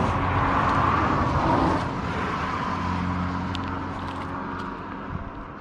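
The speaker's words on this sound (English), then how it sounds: "I'm going to let this car go by" A car passes on a road beside an oyster tidelands beach, a broad steady rush that swells early and slowly fades as it moves away, with no talking.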